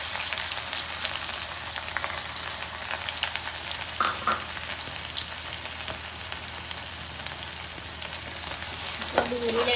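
Sliced onion frying in hot oil with mustard seeds while making Luni bhaji muthiya, a constant close crackling sizzle with occasional clinks and scrapes of a stirring spoon, no speech.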